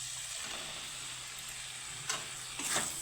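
Pre-fried okra (bhindi) cooking in a spiced masala in a pan: a faint, steady sizzling hiss, broken by a couple of brief scrapes of stirring near the end.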